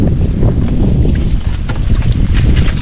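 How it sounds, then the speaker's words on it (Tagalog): Strong wind buffets the microphone in a constant loud roar, with water sloshing faintly beneath it. "Ayun ano, malakas pa yung hangin."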